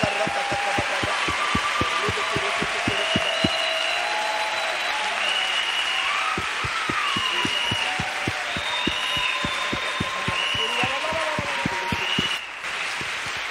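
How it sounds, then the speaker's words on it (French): A church congregation claps in a steady rhythmic beat, many hands together, close and sustained over background music and hum, ending briefly near the close. "Let's clap for the Lord."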